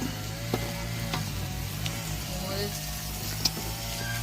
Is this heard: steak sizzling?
yes